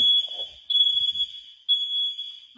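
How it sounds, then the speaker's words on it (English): An apartment fire alarm sounds a loud, steady high-pitched electronic tone that breaks off briefly twice and resumes, with faint low thumps underneath. "My fire alarm goes off every week."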